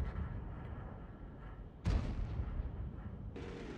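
Artillery shot fired across the map in World of Tanks: a single heavy boom bursts in loudly after a low rumbling background, decaying over a second or two, with a second sharper swell near the end.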